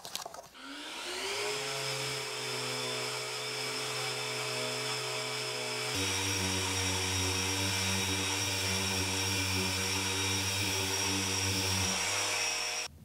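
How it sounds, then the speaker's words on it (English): A power sander starts up and whines steadily at close range on pallet wood with coarse 40-grit paper, its motor hum shifting pitch midway as it presses into the wood. "do the bit I've been dreading, and that's sanding"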